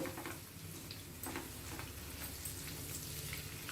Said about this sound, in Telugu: ఇప్పుడు ఇంకొక నిమిషం ఇంకొక సైడు ఫ్రై చేసుకోవాలి